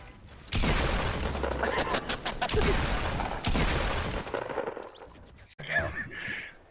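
Dense bursts of video game gunfire rattle out in long rapid volleys, loud and close, with short pauses between them and voices talking over the shooting.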